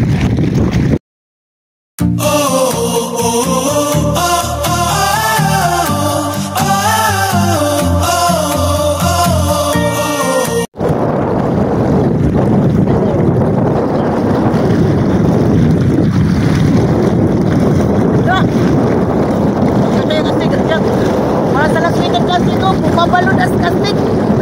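Sea waves off an island near Surigao City, Philippines wash and rumble continuously with strong wind buffeting the microphone, following a stretch of music at the start.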